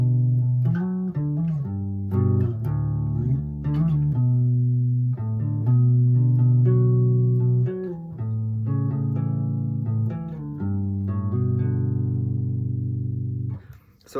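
Guitar jam from the CKY documentary, a sustained, tuneful riff of chords and single notes ringing steadily and fairly loud for about fourteen seconds, with no voices.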